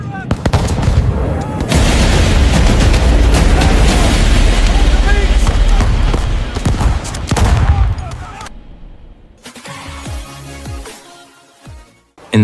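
Dramatized battle scene with dense, sustained gunfire and booming blasts, loud and layered for most of the stretch, then sparser shots and rumbles with a voice heard near the end.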